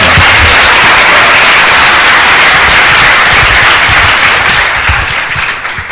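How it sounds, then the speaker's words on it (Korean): An audience at a Korean developer conference claps to welcome a speaker, a loud dense burst of applause from a large crowd that holds steady and then thins toward the end. "박수를 한번 맞이해주셨으면 감사하겠습니다"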